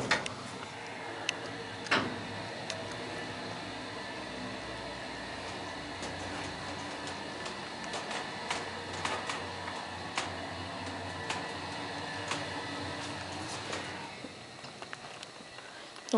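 A Dover Oildraulic hydraulic freight elevator hums steadily as it travels, with faint ticks, clunks and rattles of the car and shaft over a low drone, ending with a settling clack.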